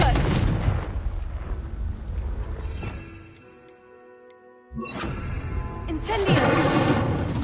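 Confringo blasting spell going off in a magic game, with loud booming blasts, a quieter ringing lull, then another sharp explosive burst, and voices nearby.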